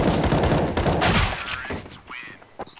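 Dense, rapid bursts of gunfire from the game CS:GO, loud and close, thinning out after about two seconds before one last sharp shot.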